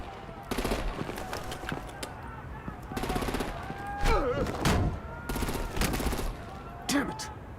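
Gunfire and artillery in the video game Batman: The Enemy Within come as repeated loud bursts of rapid automatic fire, separated by brief gaps where character voices can be heard.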